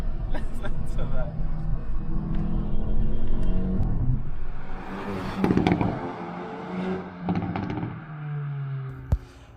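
A 2022 Hyundai i30N hot hatch's engine and exhaust rumble and rev with crackling pops, rising and falling as a person talks excitedly over it.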